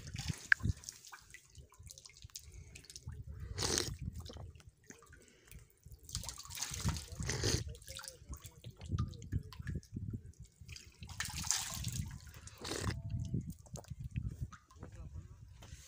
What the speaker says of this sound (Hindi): स्पैशल पानी भरया जा रहा भाई चेक करने वास्ते